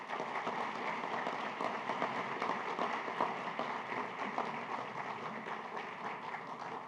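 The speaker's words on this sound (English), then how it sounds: "Let's give a round of applause for Harnett County Schools." Audience applause at a 2026 Purple Star award ceremony for schools, a steady, moderate wash of many hands clapping that holds evenly throughout with no voices on top.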